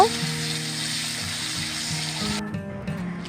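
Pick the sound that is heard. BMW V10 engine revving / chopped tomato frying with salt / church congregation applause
chopped tomato frying with salt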